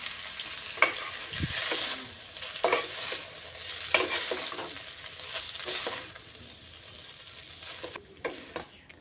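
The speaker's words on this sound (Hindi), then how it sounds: "अब हम इसमें नमक डाल देंगे और इसे अच्छी तरीके से मिक्स कर लेंगे।" Noodles are stirred and tossed with salt in a hot pan, steady sizzling under scraping utensil strokes at close range, with no voices.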